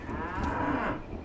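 A cow in a video game lets out a single sustained moo, loud and close, lasting about a second.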